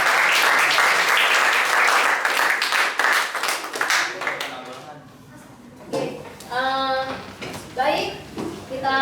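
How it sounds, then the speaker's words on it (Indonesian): A classroom audience claps for a group that has just finished a presentation, with dense applause for about four seconds, then thinning into scattered claps as voices talk over it. "Silakan beri kembali dan berikan tepuk tangan kepada mereka."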